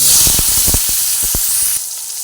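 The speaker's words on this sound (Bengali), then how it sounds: "টমেটো ভাজা হচ্ছে সেই সময়ের মধ্যে" Tomato frying in a pan, added after whole cumin seeds were toasted in oil, gives a steady close sizzle and hiss with a few soft knocks from stirring; the sizzle drops suddenly near the end.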